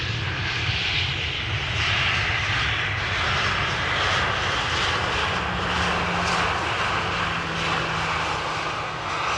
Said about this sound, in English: Gentle touchdown. Ooh, reversers.